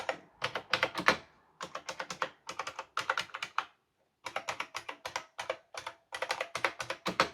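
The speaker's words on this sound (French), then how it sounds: "ça fait pas du tout le même bruit de touche que les claviers modernes" Bursts of fast typing clack on an IBM Model M keyboard built in 1992, its buckling-spring keys loud and sharp in close rhythmic runs separated by brief pauses.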